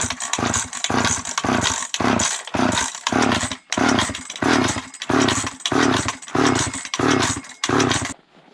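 An old McCulloch chainsaw is pulled to start over and over. Each pull gives a loud, rhythmic burst of sputtering engine that never catches, about a dozen in a row close up, then stops.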